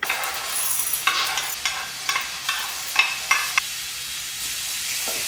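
Chana dal, urad dal and coriander seeds sizzle in hot oil for a homemade sambar masala while a utensil stirs them, with a steady fry hiss broken by periodic scraping strokes.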